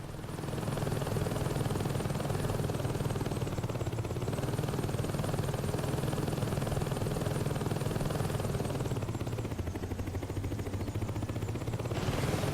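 A helicopter in the Saints Row 2 Heli Assault game mode gives a loud, steady rotor and engine drone that runs unbroken from start to finish, with no voices.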